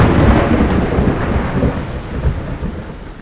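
Thunder rolls and rumbles loudly over heavy, steady rain during Hurricane Idalia, the deep roar fading and swelling again across a backyard with no voices.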